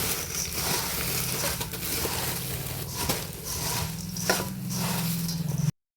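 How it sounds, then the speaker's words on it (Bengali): Puffed rice is mixed by hand with cucumber and onion, giving a continuous crunchy, crackling rustle close by over a low background hum, then stopping abruptly. "তারপরে চলো এখন দেখো মুড়ি মাখাচ্ছি।"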